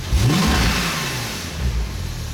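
A turbocharged sports car engine revs hard close by, rising quickly in pitch to the fuel cut and then holding a raspy, throaty exhaust note as it settles.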